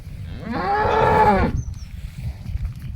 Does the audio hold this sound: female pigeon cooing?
no